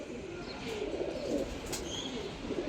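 Giribaz pigeons of silver-line coloring coo softly in their loft, low murmuring calls rising and falling over a steady background hiss, with a couple of faint higher chirps, fairly quiet and with no talking.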